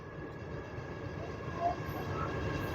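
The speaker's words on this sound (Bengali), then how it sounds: "এখান থেকে সামনে থেকে একটা ট্রেন বেরিয়ে যাচ্ছে," An express train on the Amritsar–Bilaspur Chhattisgarh route passing in the distance, a low steady rumble with a faint rise toward the end while a voice talks over it.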